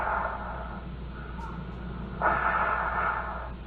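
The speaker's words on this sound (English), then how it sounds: "What you are hearing is the heavy breathing of a man who took the lives of 14 people" A man's heavy breathing is recorded on an answering machine over a thin, muffled line with steady hum. Long hissing breaths come in two drawn-out waves with a pause between them.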